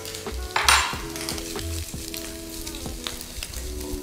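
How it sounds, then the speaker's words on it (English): Bacon sizzles in a hot pan with a constant close crackling hiss, broken by a few pan and utensil knocks and one brief louder burst of spitting fat; no voices. "chuck some bacon in a hot pan"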